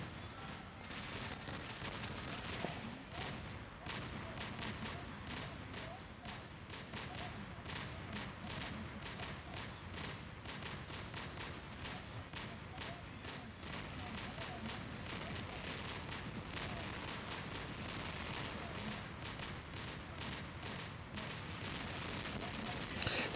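A slow-firing weapon is fired in a video game test server: repeated gunshots run steadily through the whole clip under some talking.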